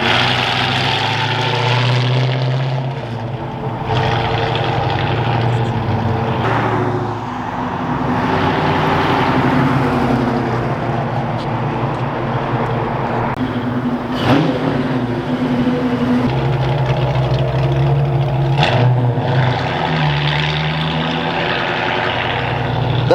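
A Ford Foxbody Mustang with a new custom exhaust drives around the block, its deep engine drone loud and sustained, swelling and easing as it moves past with no talk over it.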